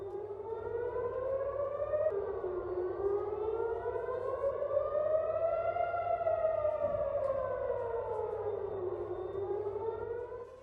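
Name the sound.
air raid sirens sounding in Tel Aviv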